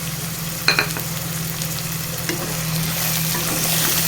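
Shelled green peas sizzle steadily in hot oil in a pan for a Telangana-style pea and tomato curry, with a spoon scraping and stirring near the start, loud and close, and no talking.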